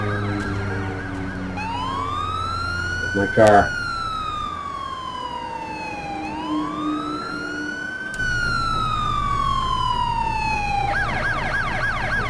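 Police car sirens wail during a chase in the racing game Driver San Francisco, sweeping up and down in pitch with a switch to a faster yelp near the end, over engine drone and a brief spoken remark.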